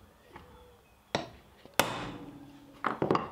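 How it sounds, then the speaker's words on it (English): A center punch is struck with a hammer while working on a truck tailgate for an RV mod, producing a few sharp metallic hits spaced apart, with a couple of lighter taps after. "Then we're just going to take a punch. Punch it right in the center."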